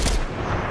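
A single heavy, booming gunshot in Fortnite battle royale, loud and close with a short rumbling decay.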